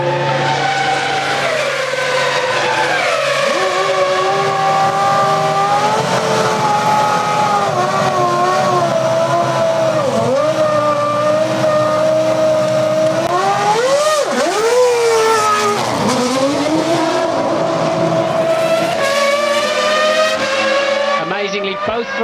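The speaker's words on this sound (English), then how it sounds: "he's closing up now on Fernando Alonso in the Minardi, who is in 17th place, to lap the Spaniard as in comes the Ferrari" Formula 1 cars at Monza during the 2001 Italian Grand Prix, including a Ferrari and a Minardi, high-pitched V10 engines screaming loudly and sweeping up and down through gear changes as they pass, with commentary running throughout.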